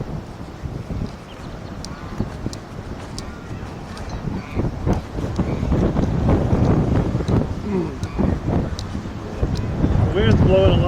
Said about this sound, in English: The wind's blowing a lot.